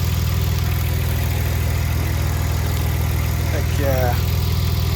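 A 2002 Audi B5 S4 engine idles with a steady, rhythmic low-pitched throb close by, someone speaking briefly over it near the end.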